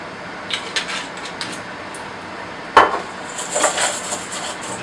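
Chopped vegetables seasoned with salt, ground black pepper and extra virgin olive oil being tossed in a bowl, giving scattered light clinks and rustles with one sharp knock midway and a busier clatter near the end.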